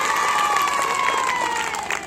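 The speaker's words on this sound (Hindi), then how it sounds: "तो एक बार जोरदार ताली बजा दो इस गीत के लिए" Crowd applause and cheering for a song at a live Hindi event, a dense steady wash of clapping and voices lasting about two seconds, with a faint whistle-like tone riding on top.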